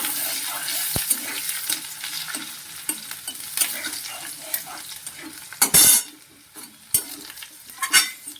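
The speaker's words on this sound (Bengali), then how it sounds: "রসুনগুলো লাল লাল করে ভেজে নিই" Chopped garlic fries in hot oil in a pan while being stirred: a steady loud sizzle with repeated scraping, spoon clinks and a few sharp knocks against the pan, no voices.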